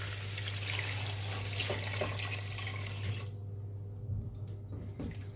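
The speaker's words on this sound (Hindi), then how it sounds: "दो से 3 गिलास पानी ऐड करेंगे इसमें।" About two to three glasses of water poured into a pot of lentil soup with spices, giving a steady close splashing rush that runs for several seconds before thinning into softer trickles and drips.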